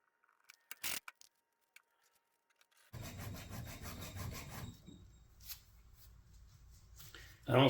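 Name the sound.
filing a notch into steering gear arm and shaft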